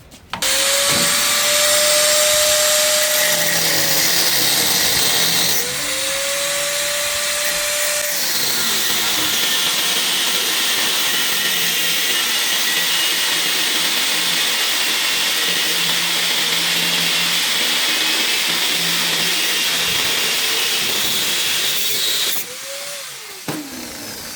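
Loud continuous whine of a power tool cutting through the metal frame of a homemade buggy, with sharp pitch dips as the blade bites, running steadily for most of the span before a final cut-off; no talk.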